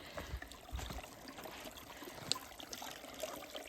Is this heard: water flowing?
yes